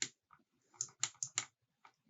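Typing on a SteelSeries Apex 5 mecha-membrane keyboard with blue click-bar switches: a quick run of about seven sharp, close keystrokes, loosely spaced with short gaps, each with a crisp click and a light thud of the key bottoming out.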